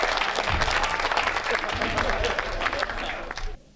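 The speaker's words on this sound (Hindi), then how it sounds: "एक बार जोरदार ताली से।" A Hindi comedy poetry gathering audience breaking into loud, energetic clapping, dense and close, with a few voices mixed in, sustained before cutting off abruptly near the end.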